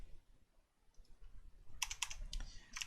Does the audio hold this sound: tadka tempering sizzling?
no